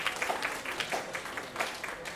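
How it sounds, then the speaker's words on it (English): Applause rises from the audience at a Rotary Club installation banquet, a modest, fairly distant patter of clapping heard with faint crowd murmur. "Please, let's give a round of applause to all these wonderful people."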